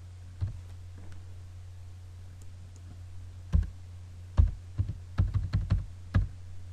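Computer keyboard keys tapped in short, irregular clusters of soft clicks over a steady low electrical hum, with no talking.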